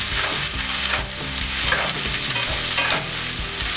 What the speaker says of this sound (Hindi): अभी देखिए मेरा अनियन और गार्लिक एकदम भुन चुका है